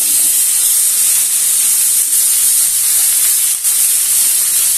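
Fish grilling in a pan sizzles in a loud, continuous, steady hiss that stays even and close throughout with no pauses.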